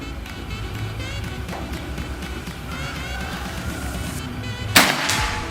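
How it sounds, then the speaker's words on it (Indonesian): A PCP air rifle, a Predator Escobar, fires a single sharp, loud crack near the end, set against a steady background of outdoor noise with no talking. "Kita lanjut lagi ke tembakan yang ketiga."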